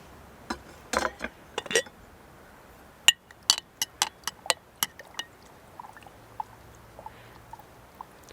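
Sharp glass clinks and taps from a glass of dandelion tea being served with honey, scattered irregular knocks and chimes against quiet, with faint soft handling sounds later.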